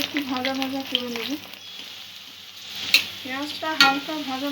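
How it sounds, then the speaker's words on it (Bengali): Onion fries in white oil in a kadai, a bright sizzle with occasional stirring clatter, partly overlaid by a tonal, voice-like hum that rises and falls and drops out briefly midway. "পেঁয়াজটা আগে একটু ভাজা ভাজা করে নেব।"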